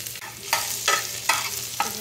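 Chopped garlic frying in oil for restaurant-style beef noodles, a steady close sizzle broken by four evenly spaced scraping stirs of a spatula.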